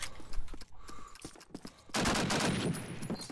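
Desert Eagle pistol fire in Call of Duty: United Offensive, several sharp single shots cracking at irregular intervals before a denser, louder burst of overlapping gunfire fills the final stretch.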